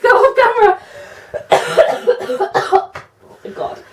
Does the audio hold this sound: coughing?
yes